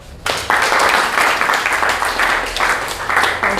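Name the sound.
audience applause in a classroom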